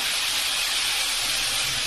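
Potato and cauliflower pieces fry in oil, giving a loud, continuous, even sizzle with no pauses and no talking.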